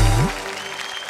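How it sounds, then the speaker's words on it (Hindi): A brief burst of audience applause, strongest at the start and thinning into scattered clapping with crowd murmur. "आप लोगों के तालियां।"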